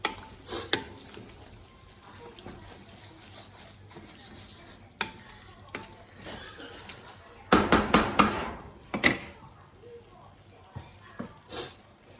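Food is stirred in a hot pan during home cooking, with a faint sizzle underneath. Scattered spatula scrapes turn into a cluster of louder, rapid stirring strokes partway through, and a person talks intermittently.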